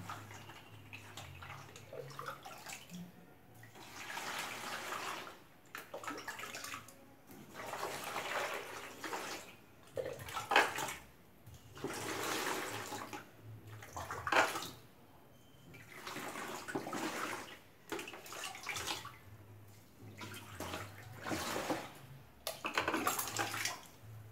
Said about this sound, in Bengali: কিভাবে আমি জলে এটাকে ভিজিয়ে রাখবো এইভাবে একটা বড় গামলির মধ্যে নিয়ে আর জল দিয়ে দিতে হবে এইভাবে